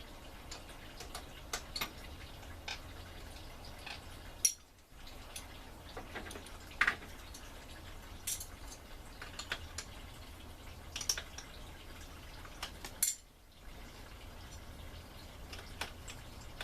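Coolant drips steadily while draining from a Honda Accord wagon's radiator, making faint, regular ticking drops under a low background hum, broken by a couple of brief louder handling noises.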